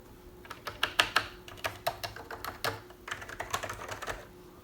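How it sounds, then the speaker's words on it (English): Fingers type on a plasticky, mushy computer keyboard, irregular bursts of muted clacks and key presses, close and fairly quiet, with no voices. "What a strange keyboard."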